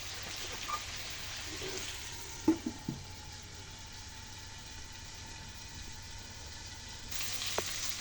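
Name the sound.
chicken curry sautéing in a covered pan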